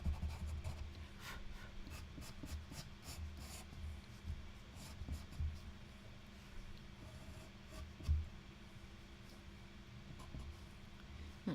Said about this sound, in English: I'm just getting those highlights sort of marked out, teasing them out with my white pencil